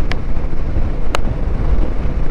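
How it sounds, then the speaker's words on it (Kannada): Cold wind rushes against the microphone under cloudy skies on a Himalayan road trip, a steady low roar with two brief clicks and no voices. "ಈಗ ಸ್ವಲ್ಪ ತಣ್ಣ ಗಾಳಿ ಬರತೈತಿ"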